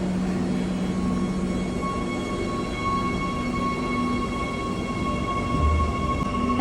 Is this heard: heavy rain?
no